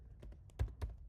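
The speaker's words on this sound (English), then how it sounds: "So you type in the address of your school," Typing on a computer keyboard: a quick run of soft, close keystrokes with a couple of heavier thumps, all within about a second and fairly quiet.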